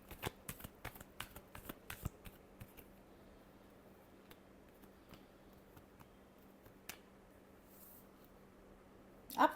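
Tarot cards are shuffled in a rapid string of crisp riffling snaps at close range, then the sound thins to quiet handling before a brief louder burst at the end.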